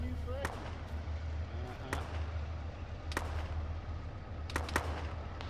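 Mortar rounds landing in the ShackTac military video game: a few distant, sharp blasts spread through the clip over a steady low rumble, with faint voices in the background.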